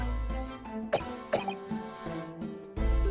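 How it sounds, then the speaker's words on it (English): Short coughing bursts from a character in The Great Ace Attorney Chronicles, two sharp coughs close together near the middle, over a steady musical game background with no talk. "You seem to be coughing up some, are you okay?"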